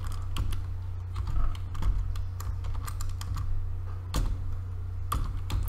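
Rapid keystrokes on a computer keyboard as text is typed into a React add-employee component, with clustered clicks and brief pauses over a steady low hum.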